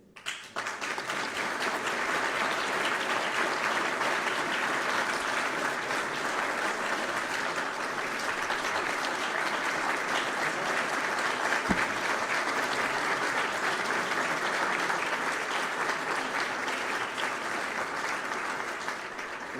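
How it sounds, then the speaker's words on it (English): Standing ovation for North Carolina Governor Josh Stein at a Helene recovery gathering in Asheville: a large crowd's sustained, even applause that rises quickly and continues for nearly twenty seconds before easing slightly at the end. "they were going to stand and applaud for you"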